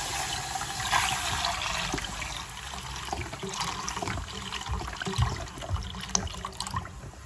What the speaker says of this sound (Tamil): அதுக்கு நான் 3/4 லிட்டர் பால் போட்டுக்கிறேன்.